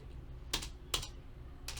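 Typing on a computer keyboard during Python programming, three sharp, distinct keystrokes spaced apart over faint background hum.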